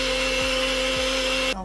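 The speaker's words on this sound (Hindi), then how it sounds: "और इसे ब्लेंड करेंगे।" A kitchen blender whirs steadily, blending a lemon, cumin and water weight-loss drink, loud and continuous with a constant motor drone before cutting off abruptly near the end.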